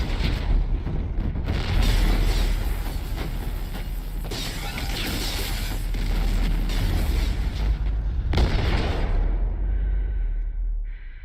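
Rumbling blasts and crashing debris from an explosion in the video game Mass Effect 2, a dense, continuous roar with heavy low end and sharp bursts throughout.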